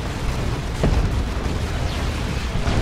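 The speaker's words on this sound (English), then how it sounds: "Rocket Launcher now getting shots in." Rocket launcher and plasma cannon fire in a chaotic Dawn of War 2 battle, heard as a dense roar of booms and bursts with a few sharper impacts standing out, loud and continuous.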